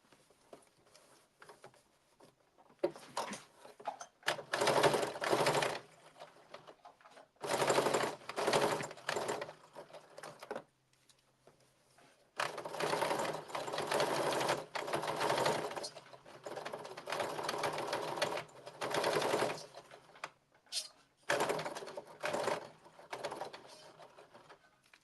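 A sewing machine stitches across a seam on a blazer in short, rapid runs of needle chatter, several bursts separated by brief pauses, close and clear.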